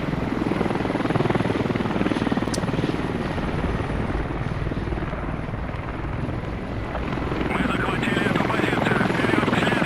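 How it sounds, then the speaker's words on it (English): A helicopter arrives in a military video game to pick up a command squad, its steady rotor thrum loud and continuous throughout, with a faint voice talking over it. "a helicopter has rolled in to pick up the command squad."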